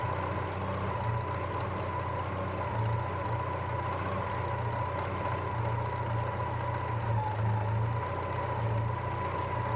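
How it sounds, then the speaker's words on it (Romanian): A warmed-up Dacia 1300 engine idles steadily at around 750-800 rpm, a continuous low mechanical rumble with even pulsing, close and alone for the whole stretch. "După ce s-a încălzit motorul, reglez relantiul la aproximativ 750-800 de rotații pe minut."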